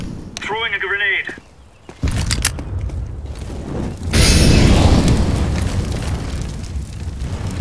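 In CS:GO on the Inferno map, a thrown grenade detonates with a loud, booming blast midway, followed by a rumbling roar that lingers; brief voice and gunfire-like clatter come before the explosion.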